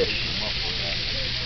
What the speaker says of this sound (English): Frying rockfish.